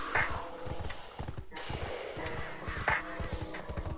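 Horse hooves clip-clop steadily with a whinny in the video game Black Desert, a close, continuous run of hoofbeats with a neigh near the start and another near the end.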